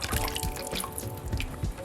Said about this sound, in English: So I'm just gonna pour in the rest